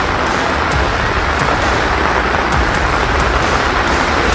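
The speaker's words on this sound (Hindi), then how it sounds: "मुंबई समेत कई जिलों में सुबह से ही भारी बारिश हो रही है" Heavy monsoon rain pours down in Mumbai, a dense, steady, loud hiss of rainfall hitting surfaces without pause and with no voices.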